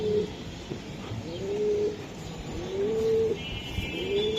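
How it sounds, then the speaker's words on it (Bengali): A Hungarian-blood racing pigeon coos in repeated low, rising calls, about three or four in a row, close by, over a busy background murmur. "হ্যাংরিয়ান ব্লাডের কবুতর।"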